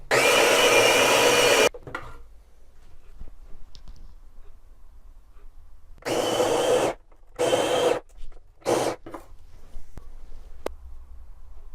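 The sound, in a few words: OXO coffee grinder grinding coffee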